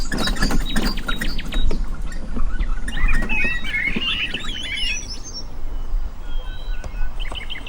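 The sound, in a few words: birds singing, including cuckoos, by the River Maun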